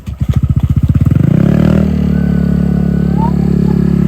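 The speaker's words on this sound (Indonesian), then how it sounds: "Kita parkir motor dulu ya sahabat." Motorcycle engine while parking, with a quick run of loud rhythmic pulses that rise into a revving surge, then settle into a steady, close idle.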